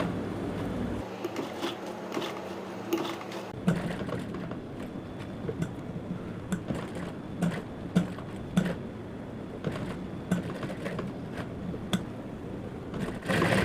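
A sewing machine stitches cutwork onto a trouser together with buckram, with a short whirring run near the start followed by irregular clicks and taps of fabric handling, close and moderately loud.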